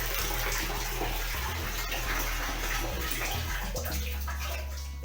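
Water gushing freely through a tap fed by a newly installed Indo geyser, a loud, continuous splashing stream that runs steadily throughout with no talking.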